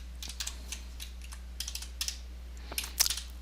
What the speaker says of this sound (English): I'm going to go ahead and just type in some values right inside of the cells of the spreadsheet